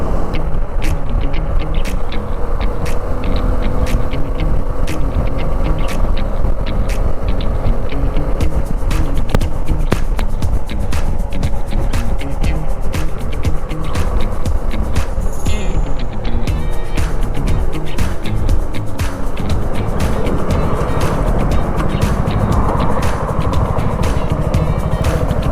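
Road traffic streams past a rider on a Suzuki V-Strom SX250, with constant loud wind and tyre roar mixed with engine drone and passing vehicles. Sharp clicks and knocks punctuate it throughout, and the whole passage plays without talk.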